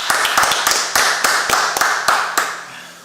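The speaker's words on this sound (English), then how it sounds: "go ahead and clap it up" Audience at a law class clapping, a sparse run of about a dozen sharp claps in an uneven rhythm, close and fairly loud, thinning out toward the end.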